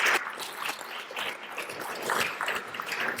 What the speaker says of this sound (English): Please, another round of applause for Tyler Smith.